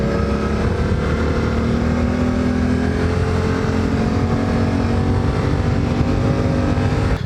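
A Suzuki V-Strom 800DE motorcycle on the move, its engine droning loud and steady with a constant humming tone and rushing wind noise, close to the microphone with no talking.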